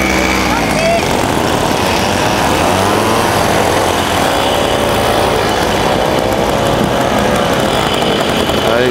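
50cc Mobylette mopeds start and run beside a lake on a road trip, several small two-stroke engines droning loud and steady throughout, with buzzy revving and voices talking underneath.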